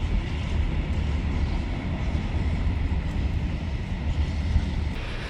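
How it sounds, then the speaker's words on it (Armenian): A freight train passes close by, producing a steady, loud, broad rumble with faint rail clatter that holds throughout, with no voices. "գնացք եկավ, բայց բեռնատարայի մեջ"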